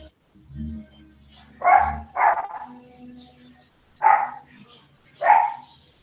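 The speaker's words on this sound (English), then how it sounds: "anybody who has a dog, please mute yourself" A dog barks over an online video call, several separate loud barks with pauses between them and faint whimpering at the start, under quiet background talk.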